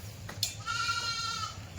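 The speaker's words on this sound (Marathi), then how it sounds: "तर मित्रांनो तुम्ही बघू शकता आता ही दुधाच्या शेळीची धावण बांधलेली आहे" A single drawn-out bleat from a Kathiawadi dairy goat in a tethered shed, moderately near and fairly quiet, lasting about a second over a low background hum.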